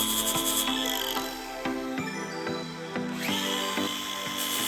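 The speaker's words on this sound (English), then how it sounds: "We used a grinder and we used a disc by DIABLO that was 80 grit sandpaper." A grinder fitted with a DIABLO 80 grit sanding disc works on metal, a loud continuous whine with pitch shifts as pressure on the workpiece changes, heard up close with no talking.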